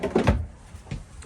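A deep kitchen drawer in a 2022 Rockwood Geo Pro 19FBS travel trailer slides with a short wooden rumble and a soft thud, then a faint second knock, close and without talk.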